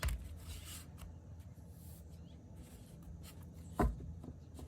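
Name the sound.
shuffling a deck of tarot cards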